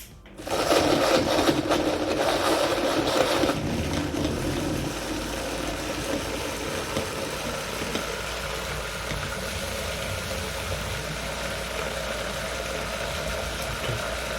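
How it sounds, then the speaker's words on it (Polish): An electric blender whirs loud and close as it purées kiwi, pineapple, banana and lime with a little water, a steady motor roar that eases slightly after a few seconds and then runs on evenly. "i włączamy nasz blender."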